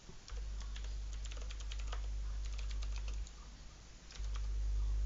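Someone types on a computer keyboard during a StarCraft II tournament stream, with quick, close clicking keystrokes in irregular bursts over a low background hum.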